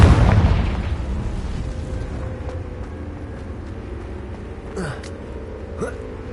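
A Confringo blasting spell goes off in Hogwarts Legacy: one loud, booming explosion right at the start that rumbles and fades into a low background drone, with a couple of faint magical whooshes later.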